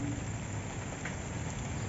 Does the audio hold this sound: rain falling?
yes